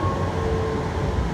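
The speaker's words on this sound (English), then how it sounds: "I was taking these late night trains out of Mill Avenue" Late-night train out of Mill Avenue, a steady close rumble filling the whole stretch with a faint tonal hum riding over it, no voices.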